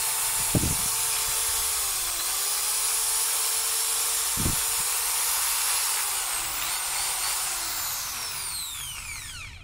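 A Thai-made Makita drill with a 13 mm chuck and 0–3000 rpm variable trigger whines steadily close up, its pitch dipping and rising as the trigger is squeezed, with two short clicks and a falling spin-down at the end.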